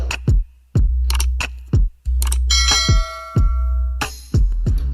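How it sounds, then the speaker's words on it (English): Notification bell ding sound effect, a series of loud, crisp bell strikes with quick decays and ringing tones, repeated at an uneven rhythm, no talk. "you press the notification bell"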